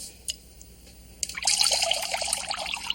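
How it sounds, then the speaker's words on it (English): Water is poured into a pie pan holding a penny, starting after a quiet pause with a close splashing trickle that continues unevenly with bright drips and splatters. "Don't move, because I'm going to pour the water in."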